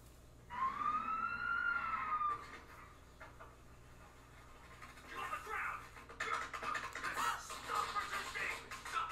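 A wailing emergency siren rises and falls loudly for a couple of seconds, then fades into noisy outdoor commotion and bursts of activity.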